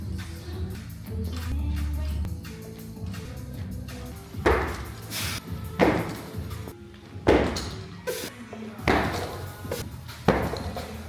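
Barbell muscle cleans from the high hang: several heavy thuds and clanks land about every one to one and a half seconds, with faint background music and tapping before the lifts begin.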